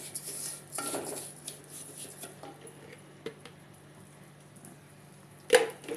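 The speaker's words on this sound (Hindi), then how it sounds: "लापसी हिलाते रहेंगे और लापसी में घी देखेंगे कितना डाला हुआ है।" A spoon scrapes and clinks against a pan while lapsi halwa is stirred in ghee, soft close scraping with occasional metallic taps and one sharp clank near the end.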